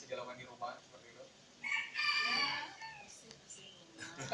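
A rooster crows at a house in Solo, one long, strained cock-a-doodle-doo at moderate distance amid other faint farmyard sounds and background noise.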